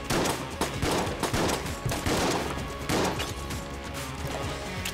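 Dense, loud bursts of rapid gunfire and crashing impacts from the video game Enter the Gungeon, coming in several rolling waves with almost no gaps between them.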